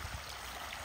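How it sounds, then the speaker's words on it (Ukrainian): Water runs steadily from a pump onto a grass roof at a clay workshop, a soft, continuous splashing flow that is fairly quiet and brief. "Поливаємо трав'яний дах наш."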